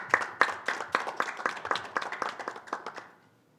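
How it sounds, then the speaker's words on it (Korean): Audience applause at a STEPI science and technology policy forum as the institute president is welcomed to give opening remarks; a small crowd claps in a clear, fairly sparse rhythm for about three seconds, then stops. "박수로 원장님을 맞이해 주시면 감사하겠습니다."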